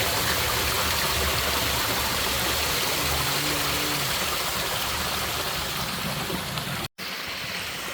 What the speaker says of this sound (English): Feel the sound of the water.